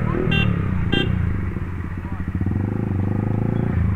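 A Yamaha MT15 motorcycle fitted with an aftermarket full-system exhaust rumbles steadily close by, its engine note pulsing through a busy street with short horn-like toots early on and people talking over it.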